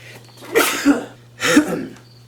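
A person sneezes twice in close succession, each a sharp, loud, nearby burst with a brief breathy intake, no talking around them.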